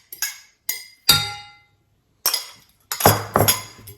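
Whole eggs are beaten in a bowl with sharp clinks and taps of utensil against the bowl, a few isolated strikes and then a faster cluster of knocks, close up with no talk.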